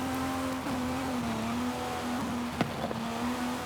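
Steady engine drone of an A-class car in Forza Horizon, holding a constant pitch through a tight, oversteering corner, with a brief sharp click near the end and no voices.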